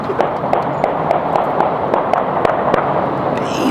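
Automatic gunfire from a gun fitted with a switch, heard outdoors in Atlanta as a long string of sharp cracks at irregular intervals over steady background noise. The shots sound moderately distant.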